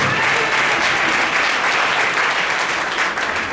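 Church congregation clapping steadily for about three and a half seconds, a dense, loud, continuous wash of applause with no voices standing out.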